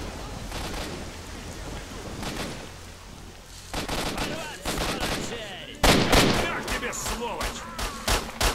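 Bursts of gunfire in S.T.A.L.K.E.R. Shadow of Chernobyl, sharp, loud shots in irregular clusters, some rapid volleys, with someone speaking briefly between them.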